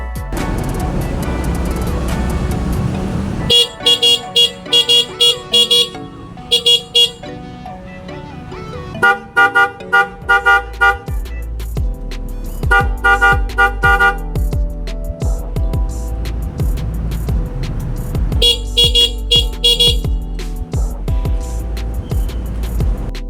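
Horn on a Rusi Gamma SS200 motorcycle honks in repeated short and long toots, some in quick rhythmic bursts, loud and close, with wind noise and engine rumble between the honks.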